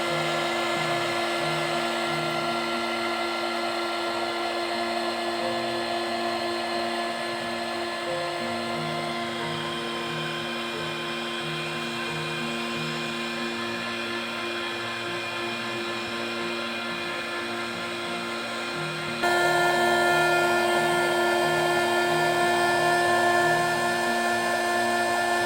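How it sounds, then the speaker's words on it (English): A heat blower warms a PVC pipe with a brush rod inserted until it turns flexible, giving a continuous whirring hum that holds steady and grows a little louder and brighter in the final seconds. "Then we heat it using a heating blower until the PVC really becomes flexible."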